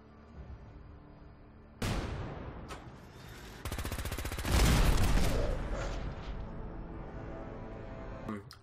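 Gunfire from the video game Fallout 4: a sudden loud shot, then a fast rattling burst of automatic fire swelling into heavy booming blasts and trailing off over a low background hum.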